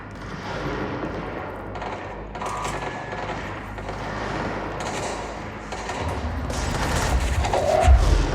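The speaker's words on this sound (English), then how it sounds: "It's like gunshots." Rapid bursts of gunfire in the video game Control crackle amid a busy, noisy mix, the shots growing denser and louder toward the end, with no voices.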